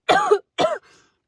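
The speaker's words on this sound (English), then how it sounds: "God, this cough." Two short, close coughs in quick succession, followed by a faint breathy trailing sound.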